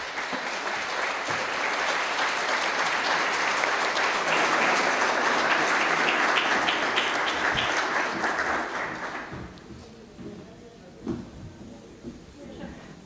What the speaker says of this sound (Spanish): Invito a recibirlos con un aplauso.